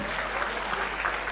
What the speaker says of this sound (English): You'll have to applaud so that I feel I should recite.